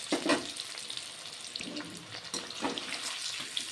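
Cauliflower pieces frying in hot oil in a pan: a continuous close hiss and crackle with a few brief clattering knocks, no voice.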